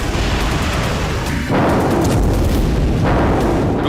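Missile strikes explode on Russian territory, a continuous loud roar of blasts and rumbling with a sharper burst partway through, no talk.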